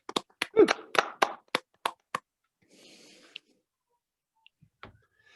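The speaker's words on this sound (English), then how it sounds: "Please give it a round of applause for these wonderful people." Roughly ten distinct, fairly close hand claps ring out at an uneven pace from a small group at a creative community review event. The claps are followed by near silence with a few faint scattered sounds.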